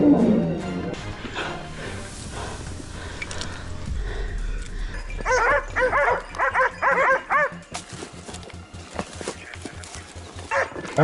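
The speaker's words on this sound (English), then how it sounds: "It kept moving forward amid the ferocious barking of the dogs." Hunting dogs bark ferociously at a wild boar during a snowy hunt, a burst of loud, rapid, overlapping barks and yelps mid-clip over a dull background.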